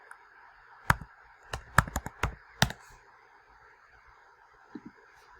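Fingers type on a computer keyboard in a short, close burst of distinct key clicks, then a pause and two light taps, with no speech.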